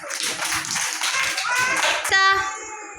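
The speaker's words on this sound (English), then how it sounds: "Claps." Children clapping in a classroom, bursts of dense claps near and loud over a couple of seconds, with a bright ringing tone cutting in near the end and small voices mixed under.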